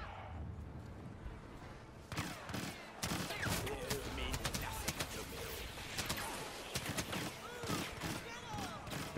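Rapid blaster fire in Star Wars Battlefront crackles in dense, irregular bursts after a quieter start, loud and close, with a busy battle din around it.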